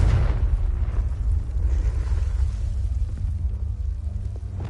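A Confringo blasting curse explodes in Hogwarts Legacy, a loud, heavy boom that fills the space and rolls on as a sustained deep rumble with crackling debris throughout.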